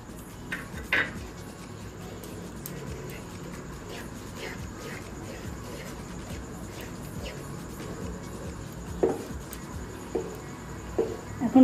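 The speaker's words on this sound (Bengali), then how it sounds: "এখন নাড়তে নাড়তে একদম ঘন করে ফেলবো, শুকিয়ে ফেলবো।" A metal spoon scrapes and clinks against a pot while thickening taler kheer sweetened with jaggery, with sporadic sharp knocks over a low steady kitchen background and no talk.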